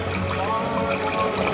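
Water fountain jets shooting up at Moana's Journey of Water, a steady close splashing rush that sits under a voice talking throughout.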